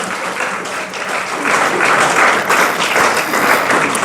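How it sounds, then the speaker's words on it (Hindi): Students and audience at a talent-honouring ceremony in Ayodhya break into dense applause that swells noticeably louder partway through and stays strong to the end. "बिल्कुल तालियां हो जानी चाहिए भाई एक बार"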